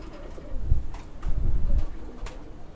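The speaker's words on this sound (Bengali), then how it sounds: "এই যে আমাদের কবুতরগুলো" Pigeons in a loft coo in several low, throaty bursts, close to the microphone, with short pauses between the calls and light rustling in the quiet gaps.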